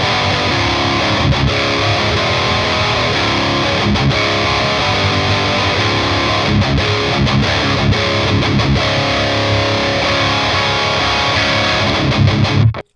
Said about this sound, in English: in terms of the heavy rhythm tones through the Fireball, it sounds something like this.